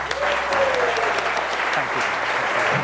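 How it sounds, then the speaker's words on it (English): A crowd claps loudly and steadily for a speaker being welcomed on stage at a health talk, the dense applause continuous throughout with faint voices and music underneath. "a huge round of applause for the man of the moment, the extraordinary, the wonderful Ash Kapoor"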